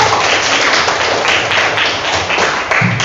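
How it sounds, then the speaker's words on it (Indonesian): Students in an Indonesian-language classroom clap for a group after its presentation, a loud, dense and steady burst of applause that holds for the full three seconds. "Tepuk tangan untuk"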